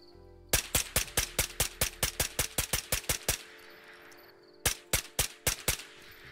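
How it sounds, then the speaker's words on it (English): Rapid bursts of automatic gunfire in the shooter game Ghosts of Tabor at night, about fifteen sharp shots in a fast string, a pause, then a shorter volley of five, loud and close. "I'm not even sure if I'm shooting at a guy."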